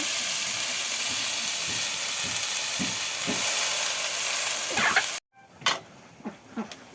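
Jute leaves fry with spice paste, salt and turmeric in a pan, giving a close, steady sizzle with soft stirring scrapes, then an abrupt cut followed by a few quieter clinks and sizzle bursts.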